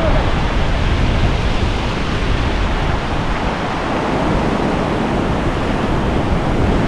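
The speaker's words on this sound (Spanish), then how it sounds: "lástima que es muy grande la ola que hay" Large ocean waves break and roll in a steady, loud broadband roar of surf that fills the whole stretch, with no clear gaps between swells.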